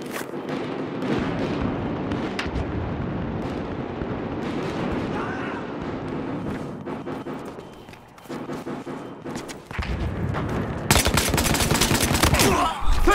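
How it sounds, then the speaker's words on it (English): Sniper and other gunfire in the shooter game Battlefield Hardline, a loud, dense run of cracks and blasts that keeps up throughout, sharpest and heaviest toward the end, with voices calling out over it. "Taking sniper fire!"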